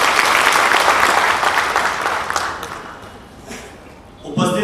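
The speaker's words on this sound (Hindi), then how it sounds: "जरा जोरदार तालियों से स्वागत कीजिए।" Loud crowd applause fills the opening seconds, then thins and fades out as it trails off.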